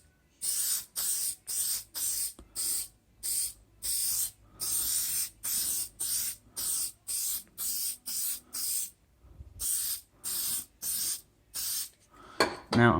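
Aerosol product sprayed onto a rough, weathered Mazdaspeed 6 headlight during restoration, heard as a long run of short, sharp hissing bursts with brief gaps between them, close and fairly loud, and no talking.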